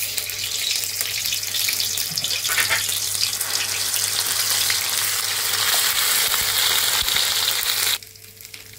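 A stone-ground paste of onion, green chilli and spices goes into hot oil and fries with a loud, steady sizzle for about eight seconds, then drops off abruptly to a faint hiss.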